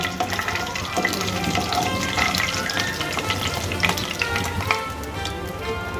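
Spices tempering in hot oil for a rui fish curry with drumsticks and potatoes, giving a continuous close crackling sizzle with small spitting pops throughout, no talk over it.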